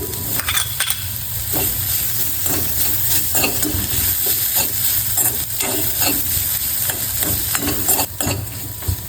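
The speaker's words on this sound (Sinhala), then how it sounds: "මේ විදිහට අපි මිශ්‍රණය හොඳට දැන් තෙල් එකේ මේ විදිහට චුට්ටක් බැදෙන්න තියාගන්න" Potato and Maldive dried fish filling for spicy chili peppers fries in oil, a steady close sizzle and crackle broken by repeated scraping stirs throughout, with no voices.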